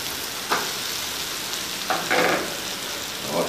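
Fried fish pieces, browned dark golden, are folded into a sizzling onion curry masala; a steady broad sizzle runs throughout, with a few brief bursts of louder frying as the fish drops in and is stirred.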